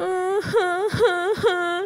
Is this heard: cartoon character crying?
yes